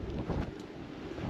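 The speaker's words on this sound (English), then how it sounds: "This is definitely way more windy than was forecast." Strong gusts buffet the microphone on an exposed rooftop, a steady loud rumbling roar with no talk.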